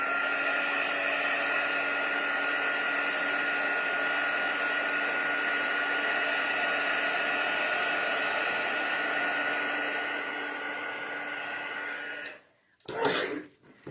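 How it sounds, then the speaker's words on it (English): A crafting heat tool blows a steady, loud whirring roar while melting embossing powder, running continuously for about twelve seconds before switching off, followed by a couple of brief handling bumps. "we'll heat that real quickly, and that might be the end of the embossing for today"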